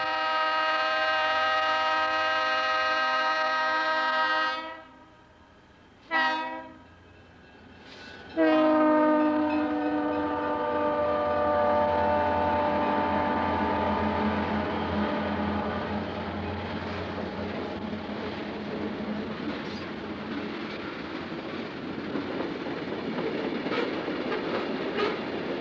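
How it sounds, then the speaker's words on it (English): A freight train fronted by a pair of Western Maryland SD35 helper locomotives blasts a long sustained horn, then drones and rumbles loudly as it climbs a steep grade, the heavy engine noise building and swelling. "A freight train with point helpers includes a pair of Western Maryland"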